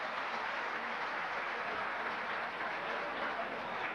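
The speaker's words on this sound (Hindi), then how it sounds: "जरा एक बार तालियां बजाकर जोरदार अंदाज में मेरा खैर मकदम तो कीजिए।" A crowd at an Urdu poetry mushaira in Dubai keeps up a continuous wash of applause, fairly soft and distant, with many hands blending into an even roar for several seconds.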